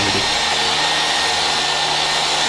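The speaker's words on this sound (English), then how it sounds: "I run these through the table saw for the correct width" Table saw ripping timber boards to width in a home woodworking shop, a steady loud broadband whine that runs without a break through the whole stretch, with no voices.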